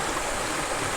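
River water flowing steadily past a riverside campsite below a mountain, a continuous close rushing wash with no voices.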